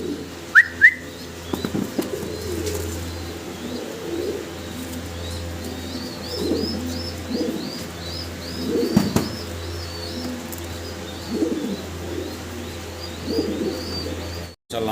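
Roman pigeons coo in soft, repeated low calls, with a few higher chirps and whistles from other birds in the background.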